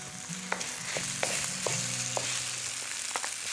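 Chinese sausage sizzling steadily in a hot pan, a dense close crackle with occasional sharp ticks and scrapes as it is stirred, no voices.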